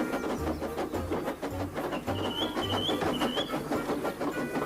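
A steam engine runs down the main line in a children's railway story, with a rapid rhythmic chuffing and rattling that carries on steadily, topped by a few short high whistle-like tones midway.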